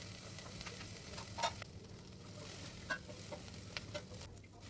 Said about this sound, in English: Remember, we are sauteing all these vegetables in the butter.